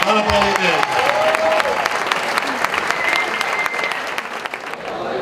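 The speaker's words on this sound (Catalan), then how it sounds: "Molt bé, un aplaudiment." An audience applauds at a Disco VIP's third-anniversary gala, a loud, sustained burst of many hands clapping that slowly thins toward the end, with a few voices and stray tones mixed in at the start.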